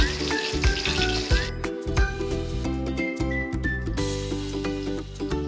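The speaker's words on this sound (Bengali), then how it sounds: "আমি ঠিক এরকম করে মাছটা ফ্রাই করে নিচ্ছি।" Rohu fish pieces frying in oil in a home kitchen pan, a loud steady sizzle with bubbling crackle and occasional spatula scrapes and stirring clinks, close and continuous.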